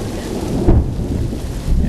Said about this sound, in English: got lightning and thunder and everything else going on